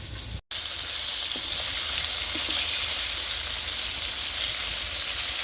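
Fish frying in a pan during village cooking, a steady, fairly quiet hiss and sizzle of hot oil that carries on without a break apart from one momentary dropout near the start.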